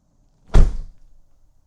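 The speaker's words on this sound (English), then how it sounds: "opening and closing the doors, since it shakes the vehicle" A car door shuts once with a single deep, heavy thunk, close and loud, followed by a short rattling decay and then quiet.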